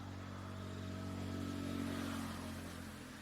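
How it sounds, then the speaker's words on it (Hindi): Vehicles pass on a road close to a farmhouse in the woods, giving a steady mid-pitched engine hum that swells slightly and then eases, heard fairly faintly at a distance with no talk. "जिसकी आपको गाड़ी हल्की फुल्की सी चलने की आवाजें आ सकती हैं"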